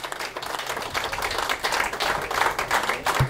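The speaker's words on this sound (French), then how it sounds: "Merci Hugo, sous vos applaudissements et encouragements." An audience at a sports event applauds, dense, steady clapping with a few cheers, loud and close for the whole few seconds.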